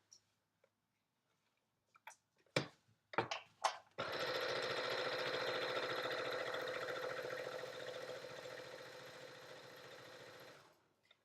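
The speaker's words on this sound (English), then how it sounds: "So now I'm going to sew down that line" A sewing machine stitches a seam on a Yup'ik make-up bag: a few sharp clicks and short bursts, then a steady close whirring run of several seconds that slows and stops.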